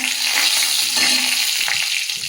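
Whole garam masala sizzles and fries loudly in hot oil as the tempering for a vegetarian dal, a steady close crackle lasting a couple of seconds with no talking.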